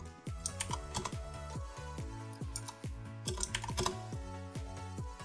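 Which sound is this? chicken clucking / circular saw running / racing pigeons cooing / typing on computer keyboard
typing on computer keyboard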